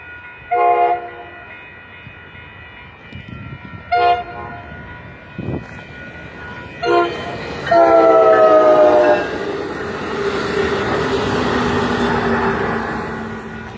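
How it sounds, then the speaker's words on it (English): An Amtrak passenger train sounds several loud horn blasts, then rumbles past with a long, swelling roar of wheels and cars. "And that is the Amtrak passenger train that I take myself when I come home from San Francisco."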